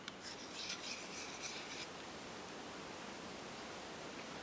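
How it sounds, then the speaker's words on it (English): Tracker knife blade drawn back and forth across a sharpener outdoors by a campfire, a few quick soft rasping strokes in the first two seconds, then only quiet background hiss. "Make sure I'm sharpening both sides same amount."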